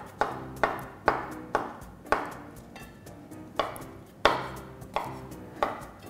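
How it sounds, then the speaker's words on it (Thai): A knife chops mushrooms on a cutting board in steady, separate strikes, each a sharp thunk. Close and moderately quiet, with no talking. "หั่นตัว เห็ดเป็นชิ้นเล็กๆนะคะ"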